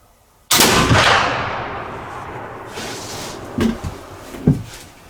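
A single loud black powder gunshot, a 100-grain charge of Goex powder, booms suddenly and then rumbles away in a long echoing decay, followed by a few softer knocks.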